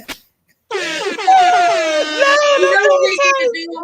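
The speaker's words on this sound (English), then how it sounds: "let me give you an air horn so you can do it" A loud, sustained air horn blares after a brief sound, its bright stacked tones wavering and holding for several seconds.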